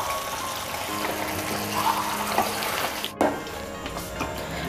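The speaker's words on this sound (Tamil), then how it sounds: "அது வந்து கொஞ்சம் பச்சை ஸ்மெல் போகிறதுக்காக நான் ஒரு 1/2 glass வந்து வாட்டர் ஆட் பண்ணுறேன்." Half a glass of water poured into a sizzling tomato curry base for spicy chicken gravy, giving a steady hiss and watery bubbling that stays fairly loud throughout, with a brief dip partway through.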